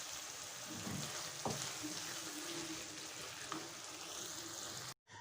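Turnips and peas frying gently over low heat, a quiet steady sizzle with a couple of faint stirring scrapes, cutting off abruptly near the end.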